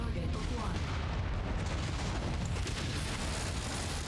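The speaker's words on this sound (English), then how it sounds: "So I want to also see how much damage we get by dual firing our PPCs." Dual PPC weapons fire from a mech in MechWarrior 5: Mercenaries, a dense, roaring blast of low booms and rumbling energy discharge that stays loud and continuous throughout.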